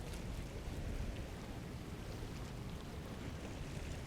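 Ocean waves surge in over coastal rocks, a steady, loud wash of rushing water and surf with wind buffeting the microphone throughout, no voices.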